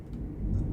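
Thunder following lightning, a low rumbling roll that swells slightly over under a second, distant and unaccompanied by speech.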